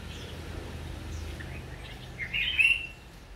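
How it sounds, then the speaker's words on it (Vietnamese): Small doves kept in a backyard bird aviary give soft calls against a low background rumble, followed by a brief, louder bird chirp near the end. "có một ít con chim cu bé nữa"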